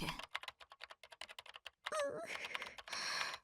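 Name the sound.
keyboard typing in the video game Chaos;Child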